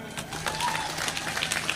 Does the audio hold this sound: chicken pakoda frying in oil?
no